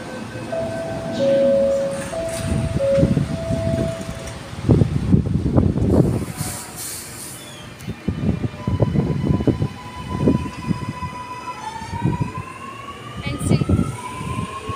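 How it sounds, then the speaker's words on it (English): A Sydney Metro train hums and whines as it pulls away from the station, with a rising electric motor tone and rumbling wheels, while people talk nearby. "it looks like our metro train is about to depart"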